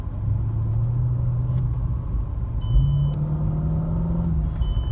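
Car engine rumbling steadily at low revs as the throttle is tapped and traction control cuts in, with a slight rise in engine note partway through and brief high-pitched electronic chimes over the drone.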